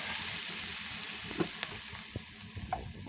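Chopped ingredients sizzle in hot oil as they are stirred in a frying pan, a steady hiss broken by a few soft scraping knocks from the spoon.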